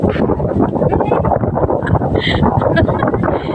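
Strong wind buffets the microphone in a dense, continuous roar on an open hillside above houses, loud and unbroken throughout.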